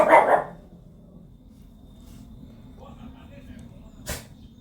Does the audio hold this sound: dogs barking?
yes